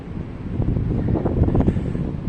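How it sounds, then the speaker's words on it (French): Freezing wind roars steadily through trees by a snowy riverside, a dense, rumbling rush with gusty swells and no voices. "We hear the wind well in the trees."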